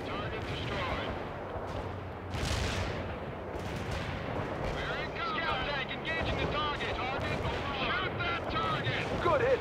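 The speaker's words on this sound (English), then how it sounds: "You have incoming fire, Lieutenant Parker. You should take out those enemy mortars ASAP." Enemy mortar rounds pounding a position in the World in Conflict game, a dense rumble of blasts and distant gunfire with a heavier burst early on, under radio-style voices talking.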